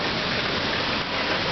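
Heavy rain pours steadily during a thunderstorm with thunder and lightning, a loud, unbroken hiss of water with no talking.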